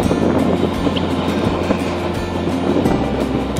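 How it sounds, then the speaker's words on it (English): A CountryLink XPT passenger train rolls past close by, a continuous rushing roar with rhythmic clacks of wheels over rail joints. "there's the CountryLink XPT"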